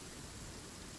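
Rain pours down in the video game Genshin Impact as a soft, steady, even hiss of a downpour, fairly faint and heard alone for a brief moment.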